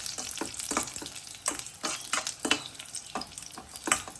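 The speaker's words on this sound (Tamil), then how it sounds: "திராட்சை வந்து பபிள்ஸ் மாதிரி வந்தோடனே எடுத்துடலாம்." Raisins frying in a pan, a soft bubbling sizzle broken by repeated stirring scrapes, close and moderately loud with no voices.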